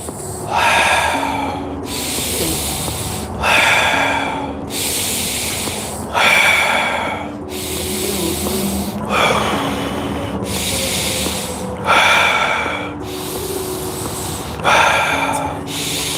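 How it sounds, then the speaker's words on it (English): Rapid, forceful nasal inhales and exhales in a guided breathing exercise, repeating in regular bursts about every two seconds, loud and close, with no talking. "Alkaline breathing."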